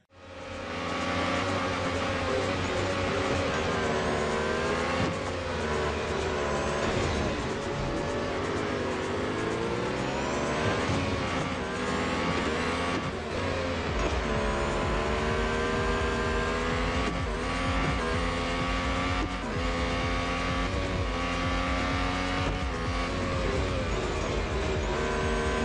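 Racing game Real Racing 3 playing on an X96Q Max Android TV box, continuous car engine roar with rising and falling revs through gear changes, dense and steady for the whole stretch, no talking.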